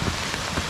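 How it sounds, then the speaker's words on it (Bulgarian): Steady rain pours outdoors during a long hike across Bulgaria, a dense, even hiss of drops striking the ground with no break and no voices. "В момента почна да вали."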